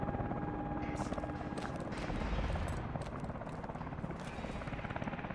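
Helicopter in Call of Duty Advanced Warfare, a loud rapid rotor thumping pulse running throughout, close and steady, with faint battle noise in the background.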